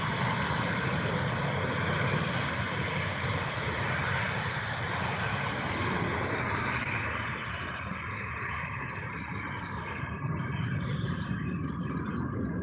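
Airliner climbing out after takeoff at Manchester Airport, a broad, steady jet roar that stays loud and fairly constant throughout, gradually easing as it recedes, with no talk.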